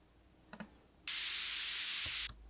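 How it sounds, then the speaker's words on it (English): A burst of white noise used as a sample in deep tech music production starts abruptly, holds steady and loud for just over a second, then cuts off, framed by a few faint clicks before and after. "so this is just a white noise."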